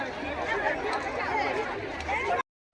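A large crowd at an Eid Milad un Nabi gathering in Gujarat, steady murmuring babble of many voices close around, ending abruptly in silence.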